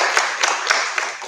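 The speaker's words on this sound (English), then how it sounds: "we could actually do a round of applause for them right now too." Brief burst of audience applause for contestants at a school speech event, fairly loud and close, lasting only about a second.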